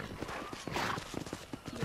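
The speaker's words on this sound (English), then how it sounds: "I got a lot of speed on this donkey." A donkey's hooves clip-clop at a quick trot in the Red Dead Redemption video game, a soft, steady rhythm of light hoofbeats under faint voices and game noise.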